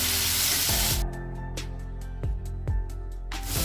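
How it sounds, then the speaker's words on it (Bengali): Chopped tomato and green chillies hit hot oil in a pan with a loud burst of sizzling hiss that settles, then swells again, with clinks from a utensil in between. "টমেটোটাও এই কাঁচা লঙ্কা দুটো দিয়ে আর একটু ভাজা হবে"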